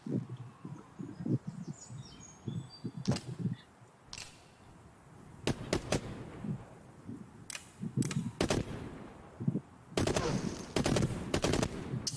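Rifle gunfire rings out in the VR shooter game Into The Radius: scattered single shots and quick bursts, loud and sharp, with quieter handling clicks and rustles between them.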